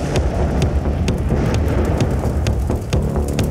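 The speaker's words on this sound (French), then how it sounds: "Fabien, toi t'es à l'extérieur sous la pluie, il pleut dehors" A rain and thunder sound effect plays loud and continuous, dense rain hiss over a low rumbling roll with scattered sharp drop-like cracks, no voices.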